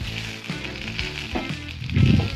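Upma of semolina with nuts and ghee is stirred in a hot pan, crackling with a busy sizzle that swells louder near the end amid scraping stirs.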